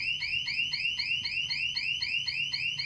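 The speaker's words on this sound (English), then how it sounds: "So this is one of the alarms." A burglar alarm sound effect from the film Baby Driver, a rapid repeating electronic whooping tone that pulses about four times a second, loud and continuous over a faint low background hum.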